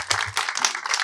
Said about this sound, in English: Let's give yourselves a big round of applause for being here.